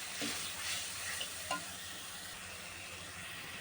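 Fried garlic with turmeric and chili powder is stirred in a hot pan, a dense continuous sizzle with a few scraping strokes of the spoon early on.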